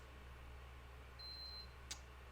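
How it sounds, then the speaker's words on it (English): A thin electronic beep from a PS4 console sounds once, a steady high tone, followed by a brief click, all faint over a quiet low hum. "My PS4 is beeping in the background."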